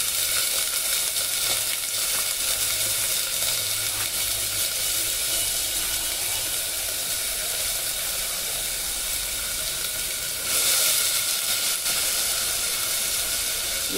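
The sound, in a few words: field beans (avarekalu) sizzling as they roast in a hot pan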